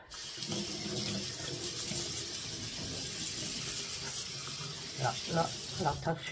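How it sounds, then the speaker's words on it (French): Steady rush of running tap water as a tomato-sauce stain is rinsed from fabric under the faucet, continuous and close, with a brief voice near the end. "Alors, je vais rincer."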